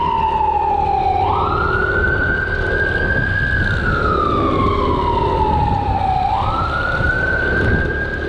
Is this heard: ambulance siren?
yes